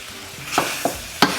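A spatula stirs beef with brown sugar and chili flakes in a pan, scraping three times at uneven intervals over a low, steady sizzle.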